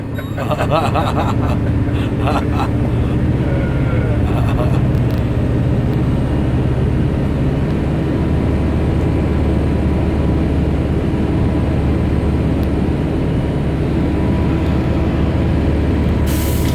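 A bus's air brake system builds up air pressure while the engine runs, a steady low rumble with a hissing compressor layer and a few sharp bursts early on, with talk over it.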